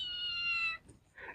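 Kitten with mismatched eyes at a home shop gives one clear drawn-out meow up close, then a short quieter call after a brief pause.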